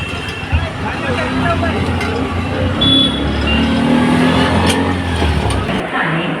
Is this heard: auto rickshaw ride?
yes